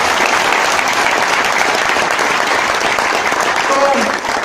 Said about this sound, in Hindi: रगड़ाती लोगों इतनी कम तालियों से काम नहीं चलेगा, जोरदार तालियां होंगी।